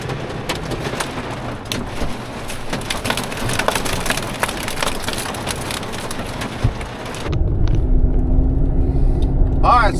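Heavy rain pours down in a dense, steady hiss full of sharp drop impacts, heard close by from a sheltered spot. Partway through the texture shifts to a lower, rumbling wash as the downpour carries on.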